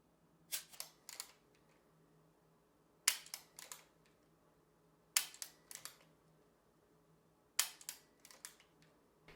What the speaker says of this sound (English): insert the laser firmly into the chamber, and then take a few shots